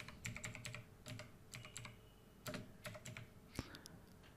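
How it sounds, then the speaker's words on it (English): A command being typed on a computer keyboard in a quiet room: a run of soft, close keystrokes in uneven bursts with short pauses, ending on one sharper key press. "Now you have to type this command."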